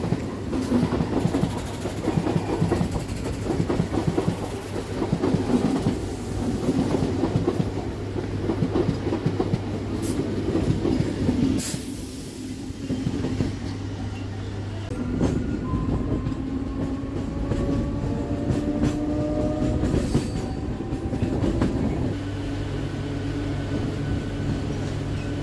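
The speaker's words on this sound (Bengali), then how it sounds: "এই ট্রেনটা বেরোবে বলেই আমাদের দাঁড় করিয়ে দিয়েছে।" A Midnapore–Howrah local train passes close by a stopped train near Midnapore, with a loud continuous rumble of wheels and rail clatter throughout, plus a steady low hum and brief squealing tones near the end.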